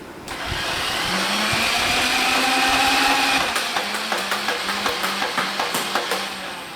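Nerf blaster's flywheel motor whirs steadily for a few seconds, then a quick rhythmic run of dart shots snaps out in an even series, close and fairly loud, with no talking.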